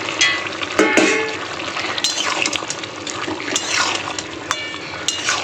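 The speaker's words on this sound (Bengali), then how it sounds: "বন্ধুরা, চুনো মাছের ঝালটা কিন্তু আমার ফুটে গেছে।" A small-fish curry simmers and bubbles in a pan, with steady sizzling, frothy hissing and occasional stirring scrapes and clinks, close up and without any talk.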